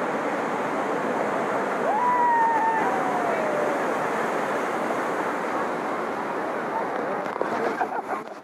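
Ocean waves wash steadily onto Rushikonda Beach in Visakhapatnam, a continuous broad surf roar with wind buffeting the microphone and a voice calling out briefly over it.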